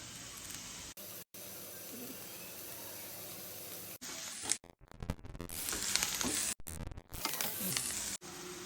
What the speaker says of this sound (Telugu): రెండు కరేపాకు రెమ్మలు ఇలా తుంచుకొని వేసేసుకోవాలి